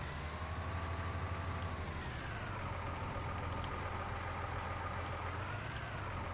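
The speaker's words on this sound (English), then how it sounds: "Forgot to turn the tractor off." A Case tractor's engine idles in Farming Simulator 19, a steady low diesel rumble with a constant drone that holds evenly throughout, close and unbroken.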